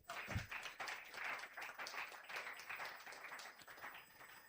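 Crowd at an auto sale and expo event applauding, a continuous spread of many hands clapping at moderate distance, with a brief low thump at the start.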